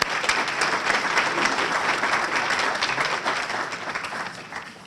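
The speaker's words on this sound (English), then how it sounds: "we'll give her a round of applause" Audience applause at a writing awards ceremony in Madison, 2013: a steady, dense patter of many hands clapping at moderate volume, tapering slightly near the end.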